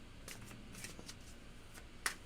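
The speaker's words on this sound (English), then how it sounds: "So then I just give them some additional shuffles, which I am doing right now." A tarot deck, the Ancient Egypt Tarot, being shuffled by hand close up: a few soft riffling bursts of cards with short pauses, ending in one sharper snap of cards, with no talking.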